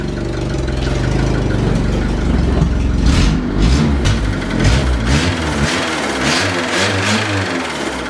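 An Opel Corsa A engine runs warm at idle, a steady low mechanical rumble with uneven pulsing throughout and a few brief revs, close by and loud with no talking.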